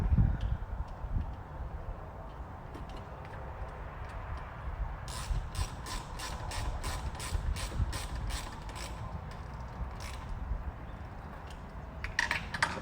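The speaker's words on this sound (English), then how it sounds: "close the lid again, and you'll hear them click on" Redarc battery box lid for a 70 series LandCruiser dual battery kit, clips snapping shut: a quick run of sharp plastic clicks in the middle, set against a low, rumbling background.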